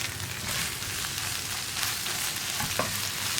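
Vegetables and Maggi noodle masala being stirred in a hot pan, with a steady close sizzle of frying and scraping stir noises running throughout.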